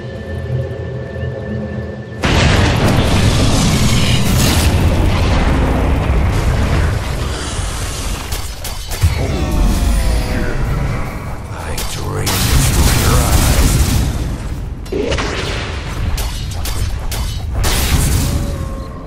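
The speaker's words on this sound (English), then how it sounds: "Bottom tower is under attack." Dota 2 tower fight at the bottom lane, a continuous loud wash of booming spell impacts, bursts and shattering hits after a brief quieter opening, with a game announcer voice heard.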